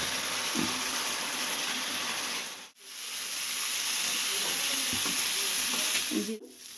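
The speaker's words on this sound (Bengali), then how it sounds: "এটা মশলাটা ভাজা হয়ে গেছে" Spices fry in a pan with turmeric powder, Kashmiri chilli and salt, giving a continuous close sizzle and hiss. Stirring scrapes break in now and then, and the sizzle briefly drops out twice.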